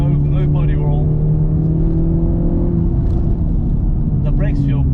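Honda Civic Type-R FK8 accelerating hard in first gear, its engine a loud, steady droning rumble throughout, with someone talking over it inside the cabin.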